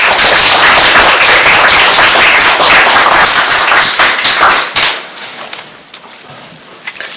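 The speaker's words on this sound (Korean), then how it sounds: "박수로 맞이해 주시기 바랍니다." A lecture-hall audience at a Korean novelist's special talk welcomes the author with loud, close, crowded clapping. It holds for nearly five seconds, then stops abruptly, leaving a quiet room with a few stray sounds.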